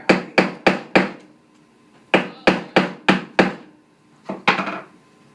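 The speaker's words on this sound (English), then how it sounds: "I can cut him in half with my hammer" A hammer strikes through a piece of gray calcium metal in sharp, loud clacks, first in a run of four quick blows, then five more after a pause, and a final pair, each ringing briefly.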